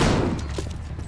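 Gunfire in the World War II shooter Call of Duty: United Offensive, multiplayer: a loud, dense burst of shots at the start, then scattered fainter reports and thuds trailing off.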